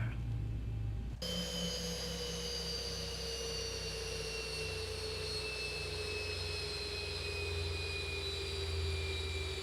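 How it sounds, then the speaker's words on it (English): Boeing 737 jet engines in the X-Plane 11 flight simulator spool down at the ramp, a steady whine gliding slowly lower in pitch over a low rumble, loud and continuous with no talk. "my next favorite part is listening to those engines spool down"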